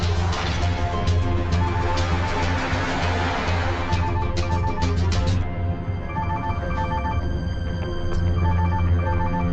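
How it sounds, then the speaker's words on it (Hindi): A telephone rings persistently in repeated bursts, fairly loud, over a low steady background hum. "मेरा फोन लगातार बज रहा है।"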